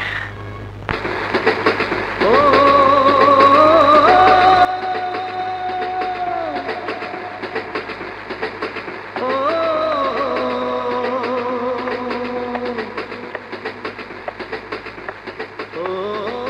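A train passes with a loud rumbling roar that rises sharply near the start, then carries on steadily with a sustained, whining horn-like tone and lighter clatter as it moves along.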